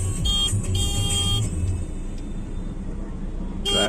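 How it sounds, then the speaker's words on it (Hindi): Busy city road traffic in Muzaffarnagar, with several short car horn honks near the start and another at the end over the low rumble of vehicle engines and passing traffic. "ट्रैफिक बहुत है यार।"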